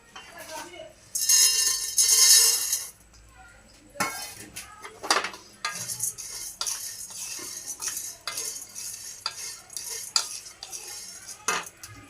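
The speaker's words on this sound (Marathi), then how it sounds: "आता हे लवंग पण आपण भाजून घेऊयात." Whole cloves dry-roasting in a pan rattle and scrape as a spoon stirs them, with clinks against the metal and a burst of loud hiss near the start, close and intermittent, with a voice at times.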